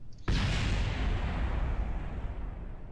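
A rocket is destroyed by range safety in the video game Kerbal Space Program, giving one sudden loud explosive blast that bursts in at once and then decays as a long, broad roaring rumble.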